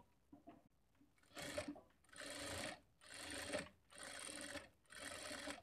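Sewing machine stitching a blouse lining in bursts, four or five runs of about a second each with short pauses between, close and clear with no talk.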